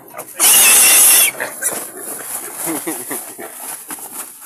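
A wild boar piglet lets out a loud, shrill squeal for under a second near the start, then grunts and snuffles faintly while people talk quietly in the background.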